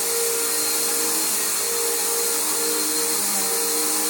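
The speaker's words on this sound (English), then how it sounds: "Just keep vacuuming regularly." A Bissell Powerforce bagged vacuum cleaner running on carpet, a loud, steady motor roar with a constant hiss and a droning tone that wavers slightly, close by and uninterrupted, with no voices.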